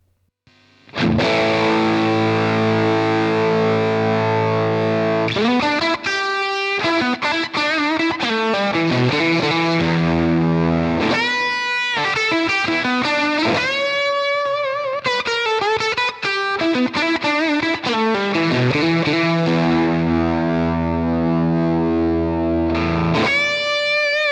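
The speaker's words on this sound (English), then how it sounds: "if I bring back the bias control, we'll start to get some more sort of spitty tones out of it" A heavily distorted electric guitar through a fuzz pedal with its bias control rolled back plays sustained notes and quick melodic runs, its fuzzy tone turning thinner and more sputtering in places, loud and continuous with no talking.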